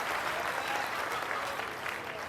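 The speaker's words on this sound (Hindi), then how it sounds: "तालियां बढ़िया प्यारी" An audience at a Hindi comic poetry recital by Vikas Baukhal claps in a dense, continuous burst of applause that stays loud and even throughout, with no speech over it.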